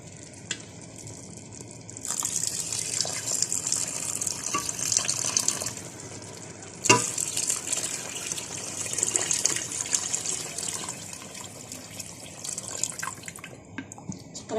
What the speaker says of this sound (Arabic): نكب الماء